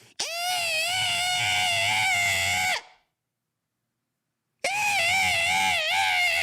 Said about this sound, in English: Someone legitimately screaming at the top of their lungs.